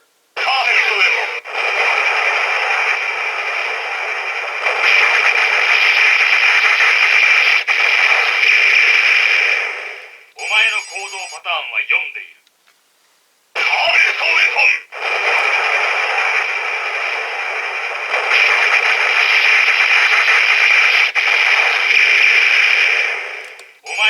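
Loud electronic sound effects from a Kamen Rider Den-O toy transformation belt's special attacks, harsh buzzing bursts that run continuously, break off briefly, then resume at full volume.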